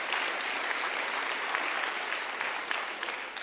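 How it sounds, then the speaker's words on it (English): A town hall audience in Wisconsin breaks into sustained applause, a thick, even roar of many hands clapping that fades slightly toward the end. "I want to make sure you give another round of applause to Devin, newly elected chair."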